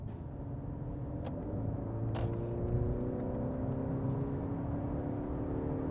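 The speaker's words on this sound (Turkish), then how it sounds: "Ara hızlanmaya bak işte gayet iyi daha ne olsun" Mercedes C200 with a 1.5-litre engine heard from inside the cabin while pulling forward, a steady low engine drone with a gently rising whirring hum, even and continuous, with no talk.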